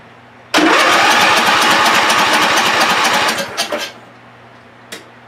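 A John Deere LA145 lawn tractor engine with a freshly cleaned carburetor cranks and catches, running loudly and roughly for about three seconds before sputtering and dying, with one more brief cough afterward.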